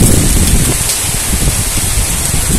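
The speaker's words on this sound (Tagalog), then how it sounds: "Malakas na naman yung ulan, guys. Ganyang kalakas ang ulan dito" Heavy rain pours steadily onto a waterproofed concrete roof deck, a dense, loud, continuous hiss with gusty wind rumbling against the microphone.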